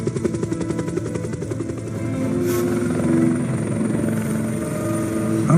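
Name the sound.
helicopter in a video game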